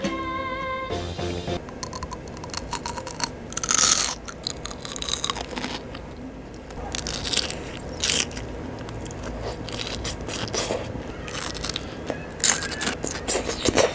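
Close, crunchy chewing and biting of a raw, unusual vegetable dressed with sesame paste and salt, with wet crunches and scraping bursts that come and go over steady background noise. No one speaks.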